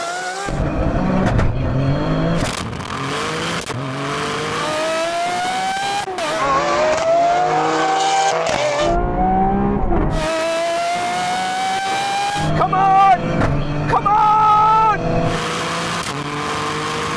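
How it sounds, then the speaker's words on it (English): A tuned GR Yaris making over 600 horsepower drag races a Lamborghini Aventador SV. Loud engines rev and howl through rising gear changes, with tire squeal and overlapping engine notes close by over about seventeen seconds. "here's how an older GR Yaris tuned to more than 600 horsepower compares with a Lamborghini Aventador SV in a drag race"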